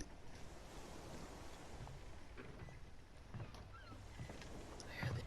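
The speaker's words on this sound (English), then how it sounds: "I hear the ocean." Ocean surf washes steadily in Far Cry 6, a continuous low rush of waves with wind and faint boat-like rumbles, a brief creak and a thud near the end, no one speaking.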